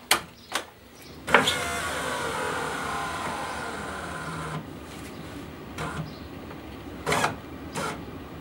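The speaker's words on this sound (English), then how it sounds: "So you need to put the window down." Electric power window motor in a Mazda MX-5 (Mk1 NA) door lowering the glass, a steady whirring hum running for several seconds at close range, bracketed by a few sharp clicks and knocks, with no talking.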